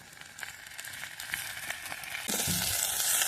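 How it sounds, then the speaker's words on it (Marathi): Red amaranth greens sauté in a pan, giving a soft crackling sizzle with light stirring taps that swells into a louder, denser sizzle near the end. "आता ही भाजी थोडी परतून घ्यायची"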